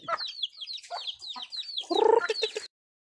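Pet chickens on a Philippine farm cluck in a rapid series of close, clear calls after feeding, ending with a louder burst before falling silent.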